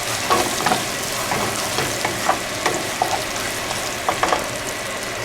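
Egg, potato and bacon fry loudly in a pan with a steady, close sizzle throughout, broken by occasional scraping stirs of a utensil against the pan.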